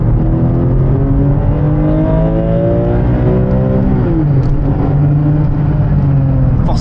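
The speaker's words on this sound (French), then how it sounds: "je mets pas énormément de moteur et la voiture prend vite de la vitesse" A Porsche 996 GT3 accelerates hard on a race track, its engine note climbing steadily through the revs, then briefly dipping at a gear change before pulling again, loud and close from inside the car.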